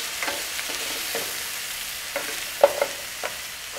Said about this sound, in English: You take it, you saute it, you concentrate the flavor of the lobster.